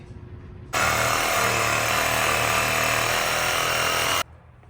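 A power tool cuts through the rubber top bushing of a 2005-2009 Buick LaCrosse front suspension: one loud, steady whine that starts abruptly and runs about three and a half seconds before cutting off sharply, with quiet before and after.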